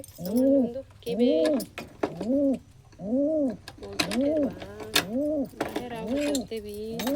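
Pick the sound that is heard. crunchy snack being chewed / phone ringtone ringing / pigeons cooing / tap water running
pigeons cooing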